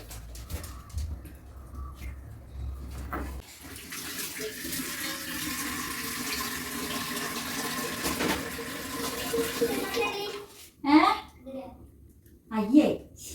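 Tap water runs steadily into a sink while dishes are washed at home, a continuous close rush that goes on for several seconds, followed by clattering and voices talking near the end.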